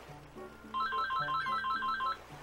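A phone ringtone plays a short bright electronic melody of quick repeated notes over a low bass line, loud and close with no talking.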